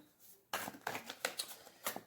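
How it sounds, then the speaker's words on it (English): Tarot cards shuffled by hand in an unfamiliar way, heard as a quick run of soft riffling slaps and papery flicks, close and quiet, with no talking. "I'm definitely not used to shuffling this way"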